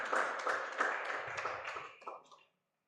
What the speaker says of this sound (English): So let's members who are here clap for the members then who made such a radical decision.